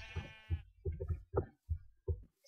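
A Minecraft sheep bleating being herded into a pen, a string of about six short, distinct bleats with brief pauses between them, close and clear with no talk.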